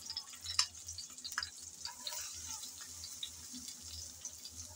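Chopped onion frying in hot oil with chopped garlic, giving a soft, steady sizzle broken by scattered crackles and pops, fairly quiet and close.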